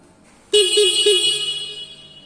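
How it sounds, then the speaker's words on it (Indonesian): Car horn sounded during a vehicle inspection: one loud, sustained honk with a few quick pulses at its start, then fading slowly. "untuk klakson"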